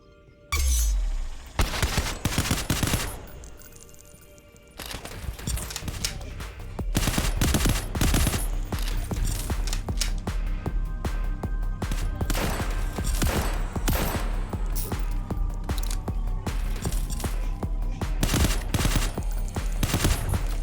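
Pistols and a revolver in the cyberpunk roguelike Phantom Proxy fire loud, rapid volleys. Dense bursts of shots follow a brief lull, then settle into continuous heavy gunfire with a few crashes mixed in.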